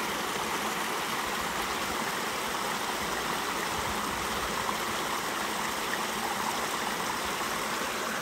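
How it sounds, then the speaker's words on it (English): Creek water at Fort Clark Springs, Texas, flows over rocks and logs in a steady, broadband rush that stays even and close throughout, with no voices. "Water flowing over rocks or logs is a very peaceful thing."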